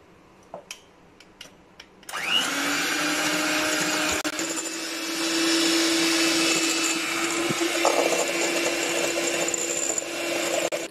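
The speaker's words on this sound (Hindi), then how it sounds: "इसको हमने बीट करना है। अगर आपके पास ये बीटर नहीं है तो आप हैंड विस्क के साथ भी इसको बीट कर सकते हैं।" An electric beater whips instant coffee mixture in a bowl for a chocolate cold coffee. It follows a few light knocks, then runs as a loud, steady whir with a sustained hum, continuous and alone.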